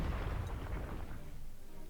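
Artillery fire in the wartime strategy game Panzer Corps Gold: a dense, rumbling low boom that sustains throughout at moderate level, with no voices.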